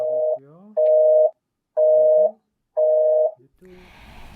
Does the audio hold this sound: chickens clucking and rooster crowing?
no